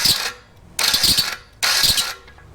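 A stone valve seat grinder skims the valve seats of a 1948 Dodge engine block in three loud, close bursts of harsh, gritty whirring, each lasting about half a second and separated by brief near-silent pauses.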